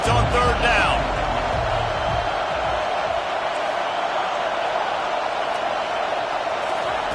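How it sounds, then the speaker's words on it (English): Steady roar of a stadium crowd in a football video game on a defensive third down, loud and sustained throughout, with a brief burst of commentary-like voice at the start. "Decibels rising as the crowd gets behind this defense on 3rd down."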